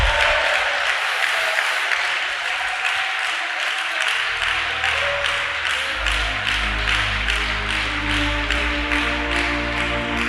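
A congregation claps steadily during a church sermon, with dense, continuous applause filling the room and a low sustained tone rising underneath in the second half.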